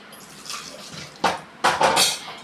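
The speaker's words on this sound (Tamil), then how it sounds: "அந்த தண்ணியை நாம் இதில் சேர்த்தாச்சு" Filtered water splashes into a clay pot during preparation of keerai kadaiyal, arriving in two or three short, loud gushes after quieter trickling.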